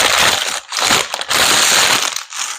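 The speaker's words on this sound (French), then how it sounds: "Pardon pour le bruit de papier." Paper crinkles and crushes close by as groceries are unpacked from a bag, the rustling broken into several bursts with short gaps between them.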